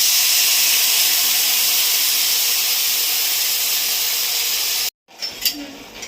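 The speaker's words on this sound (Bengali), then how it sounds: "জল দিলাম।" Water poured into a hot cooking pot for a village-style plantain and fish curry sends up a loud, steady hiss that runs for about five seconds, then cuts off abruptly before faint clatter follows.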